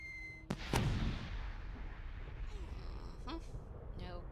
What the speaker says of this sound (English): An impressive set of fireworks made by the hobbits of the Shire